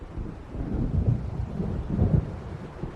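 Thunder of an approaching storm in the video game Alan Wake Remastered, a low rolling rumble that swells twice and fades, steady and fairly distant, with no voices.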